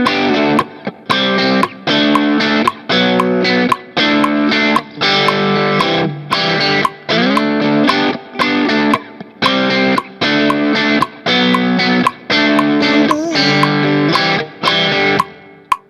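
Distorted electric guitar chugging a classic rock chorus riff at 115 bpm, loud and close, with repeated chord phrases separated by short regular gaps and no talking.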